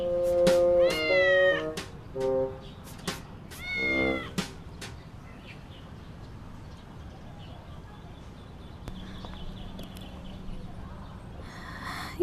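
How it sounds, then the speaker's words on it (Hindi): A cat meows several times in short, clear, rising calls during the first five seconds, then a quieter background hum carries on with no further calls. "ये तो बस प्यारी सी बिल्ली है।"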